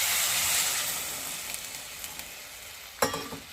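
Spice paste for a puti fish paturi fries in a pan with a strong, steady sizzle that slowly eases, then water is poured in for a fresh burst of sizzling and a few utensil taps.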